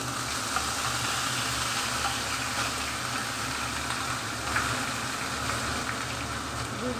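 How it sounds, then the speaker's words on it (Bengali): Ginger-garlic, onion and green chili paste with turmeric and ground cumin-coriander fries in mustard oil, a dense, steady close sizzle with faint stirring scrapes. "মশলাটা আমি ভালো করে ভেজে নেব।"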